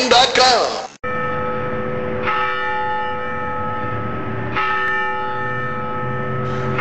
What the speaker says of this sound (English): The courthouse bell tolled today